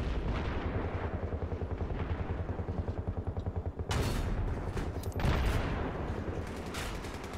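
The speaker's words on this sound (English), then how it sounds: "Oh, it was me shooting." Rapid automatic gunfire in Battlefield 3, a continuous rattling burst of shots with a couple of heavier blasts, loud and dense throughout.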